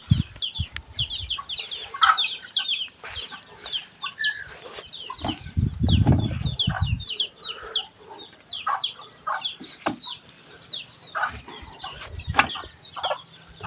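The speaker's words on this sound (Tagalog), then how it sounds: "Ang daming alagaan niyang manok ha. Maraming sisiw ang inahin." Many chickens cluck and chirp, a mother hen with lots of chicks, in a dense steady stream of calls at close range, with a few louder squawks and rustling bursts outdoors in rural Bohol, Philippines.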